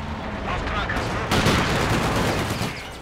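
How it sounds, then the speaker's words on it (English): Rifle grenade firing during a Stalingrad battle in the strategy game Company of Heroes 2, a loud crackling burst of explosive gunfire that sharpens into a heavier blast partway through, with a player talking over the combat. "Rifle grenade firing"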